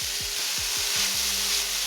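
Tofu browning with onions and mushrooms in an oiled pan gives a steady, close hiss with soft low thumps from stirring or tossing, and no voices.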